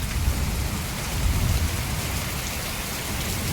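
Heavy May rain pours down in a coastal Konkan village during the season's first big storm, a steady, dense hiss of rainfall that stays loud and unbroken throughout, with no voices.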